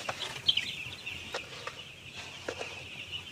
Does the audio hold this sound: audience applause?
no